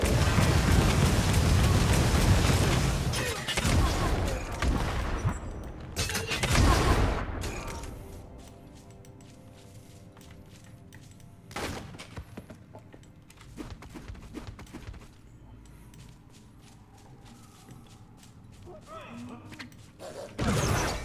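Rocket projectiles launched from a Havoc Orb in the action RPG Wolcen: Lords of Mayhem, heard as loud whooshing bursts and booms over the first seconds, then scattered impacts and crackles fading into a quieter battle.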